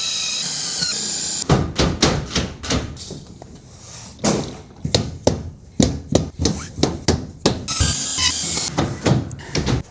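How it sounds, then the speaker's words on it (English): Rubber mallet tapping composite deck boards and hidden fastening clips snugly into the board grooves, a steady series of sharp, close knocks in uneven rhythm with no talking. "I like to use a mallet when I'm putting these in, just to make sure they're nice and snug up against the groove of the board"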